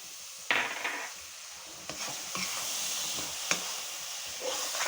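Eggs frying in a pan while egg and besan halwa is made, a soft steady sizzle with a few sharp spatters and occasional stirring scrapes, fairly quiet and close.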